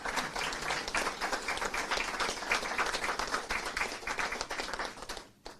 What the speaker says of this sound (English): And I think that deserves a big hand of applause.